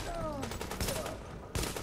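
Enemy gunfire in The Division, a quick volley of shots under a busy game mix with a voice talking, ending in a sharper louder burst.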